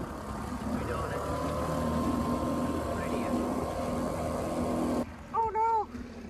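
A small outboard motorboat at full throttle, a steady droning engine roar heard close up for about five seconds before it drops away and a voice speaks briefly.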